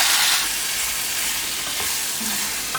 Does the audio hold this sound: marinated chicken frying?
yes